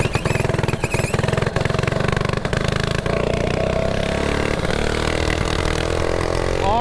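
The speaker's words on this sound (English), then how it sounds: "Oh shit, my carburetor messing up." A mini bike engine with a faulty carburetor runs close and loud, with a rapid stuttering, uneven pulse early on that smooths into a steadier drone as the revs drift.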